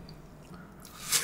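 Crunchy white watermelon rind bitten and chewed close up in a fruit-eating session, soft wet squishing building to a louder crisp crunch near the end, with no talking.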